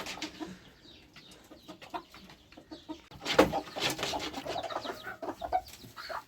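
A black hen with her chicks makes soft, scattered clucks and peeps near a coop, with rustling and scratching that grow busier toward the end.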